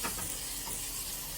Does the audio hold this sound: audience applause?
no